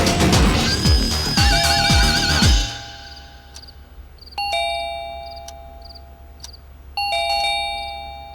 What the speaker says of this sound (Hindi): आधी रात को कौन घंटी बजा रहा है?